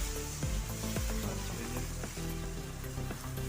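Flour batter for patishapta pitha, spread by hand across a hot pan, gives a steady close sizzle. Soft slaps and scraping strokes come every half second or so as the mixture is pushed around.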